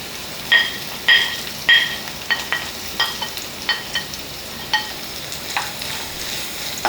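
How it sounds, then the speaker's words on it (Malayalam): Sliced onion is sautéed in oil with green chillies for a fish molee, giving a steady background sizzle broken by repeated sharp scrapes and clinks of a spoon stirring the pan. "ഇതിലേക്ക് ഒരു സവാള നീളത്തിലരിഞ്ഞത് ചേർക്കണം."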